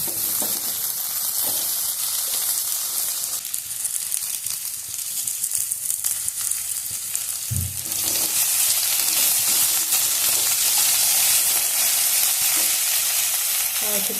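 Potatoes with chili powder fry and sizzle steadily in a pan, with stirring scrapes and clinks over a continuous loud hiss that grows brighter in the second half.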